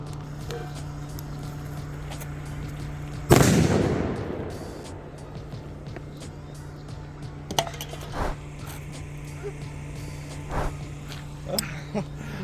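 A firecracker explodes under a pot in a single sharp, loud bang, followed by a rattling metallic clatter and scattered faint clinks and footsteps as it fades.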